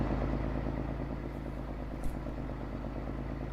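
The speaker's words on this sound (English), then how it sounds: "This tractor mod sounds really close to what an 8530 actually sounds like." Simulated John Deere 8530 tractor engine from a Farming Simulator 22 mod, a steady, throaty low rumble with constant drone, no talk.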